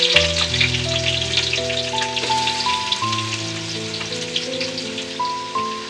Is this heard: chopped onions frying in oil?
yes